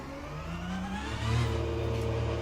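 Race car engine in the sim game Le Mans Ultimate accelerating through gears, a rising whining roar with a shift partway through, then climbing again, steady and moderately loud.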